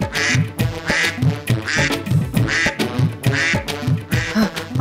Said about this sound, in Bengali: আমাদের হাঁসগুলো ডাকছে